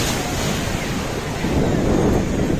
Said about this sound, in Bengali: প্রচুর ঢেউ আসছে।